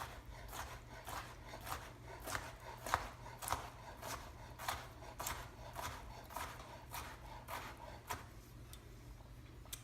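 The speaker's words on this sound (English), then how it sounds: "just slice down, slice down, slice down, turn it again, and just chop extremely finely" A kitchen knife chops food extremely finely on a cutting board for a macaroni salad, a steady run of crisp, evenly spaced knocks close up with no talking.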